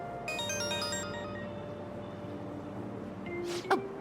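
A phone ringtone plays in Persona 5 Royal: a short, bright melodic chime near the start, then a quieter tone over a low background, ending in a brief sharp electronic blip.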